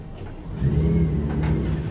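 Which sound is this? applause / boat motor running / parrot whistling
boat motor running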